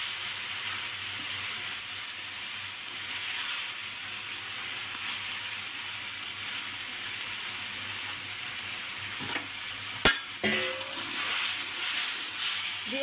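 Tilapia pieces frying in a cooked-down spice paste with drumsticks for a rustic village-style fish curry, giving a steady, close sizzle throughout with a brief clatter of stirring near the end.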